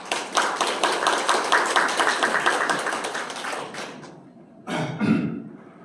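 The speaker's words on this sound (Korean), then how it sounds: "격려의 박수 부탁드리겠습니다." Audience members at a seminar on apartment-complex facility maintenance give a full round of clapping for the association chairman, steady and close for about four seconds, stopping abruptly, followed by a short burst of clapping.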